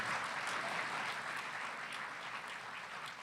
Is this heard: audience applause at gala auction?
yes